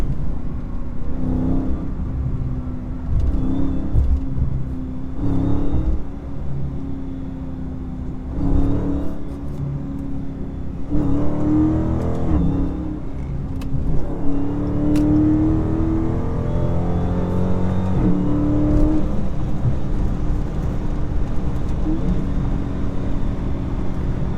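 A 2023 Dodge Charger Scat Pack in track mode revs repeatedly, loud close engine roar rising and falling through several pulls, steady and prominent with no talking.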